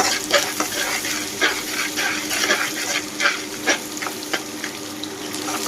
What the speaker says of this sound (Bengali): লবণটা দিয়ে আমি পেঁয়াজটা কিছুক্ষণ একটু ভেজে নিব